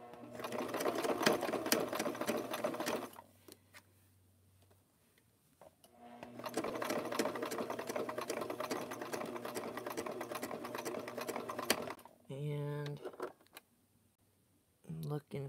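Sewing machine stitching a wave into a rope bowl, two long bursts of rapid whirring stitching separated by quiet pauses, then a few short stop-start runs, close and alone.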